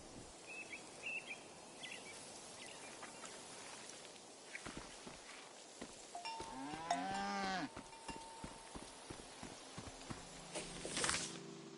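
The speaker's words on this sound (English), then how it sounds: "A beautiful cow named Gorp." A cow in a video game gives one long, close, loud moo in the middle of a quiet outdoor scene, with footsteps, a clanking cowbell and faint birdsong around it and no talk.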